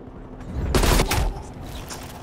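A short, loud burst of rapid gunfire in Call of Duty: Cold War, a cluster of close shots lasting about half a second followed by a fainter trailing shot.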